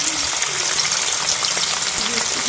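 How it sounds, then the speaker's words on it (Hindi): Spiced fish dropped into hot oil in a kadai, a loud, dense, continuous hiss of frying up close. "तो हमारा जो है ऑयल माशाल्लाह गर्म हो चुका है। तो अब हम डालने लगे हैं।"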